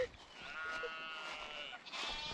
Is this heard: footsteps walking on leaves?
no